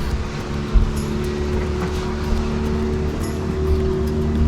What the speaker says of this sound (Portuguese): Escutamos o barulho do motor de um botinho vindo muito rápido em nossa direção.